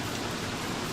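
Steady rain falling in the video game Don't Starve, a dense continuous hiss with no breaks, filling the whole moment on its own.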